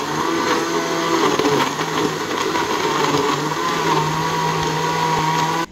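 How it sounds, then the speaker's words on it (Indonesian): A blender, running without its lid, purees garlic until smooth, a loud, continuous motor whir with a steady pitch throughout, no voices. "Sekarang kita blender sampai lembut saja."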